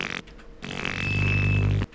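Fart-like noise from the Teletubbies speakers rising out of the ground: a loud, droning, buzzy blast lasting over a second, with a brief choppy burst before it, heard alone.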